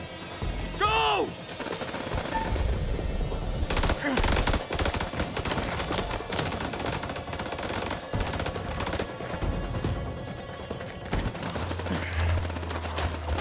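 Sustained automatic gunfire in House of Ashes during a firefight against enemies up on a ridge, loud continuous bursts of rifle and machine-gun fire over dense battle noise, with a heavy rumble near the end.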